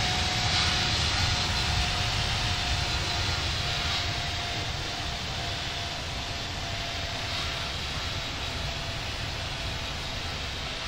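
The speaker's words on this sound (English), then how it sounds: "Cleared for takeoff, runway 22, Swiss 129." Airliner taking off on runway 22 at Geneva Airport in the Infinite Flight game, a steady loud engine roar with broad rushing noise and a faint constant tone, unbroken for about eleven seconds.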